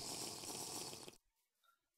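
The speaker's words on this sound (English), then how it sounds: "There's water in here, so I'll just get some in here." Water in the Minecraft video game being collected into a bottle: a loud, dense rush of splashing liquid that cuts off abruptly about a second in, leaving near silence.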